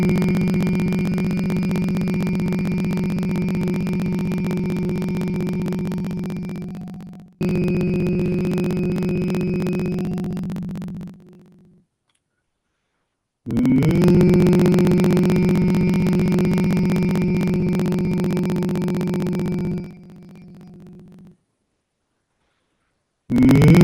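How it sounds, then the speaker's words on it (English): Intense humming meditation: a person's steady, loud low hum held for several seconds, broken by brief silent pauses for breath and then resumed, repeating in long sustained phrases. "And then when your humming stops, take a quick breath, let the natural breath happen, and then start the humming again."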